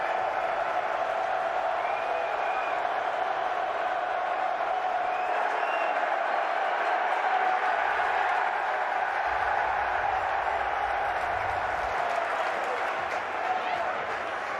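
A home stadium crowd at an XFL football game between the Seattle Sea Dragons and St. Louis Battlehawks roars steadily throughout, a dense sustained cheer with scattered whoops and no clear pauses.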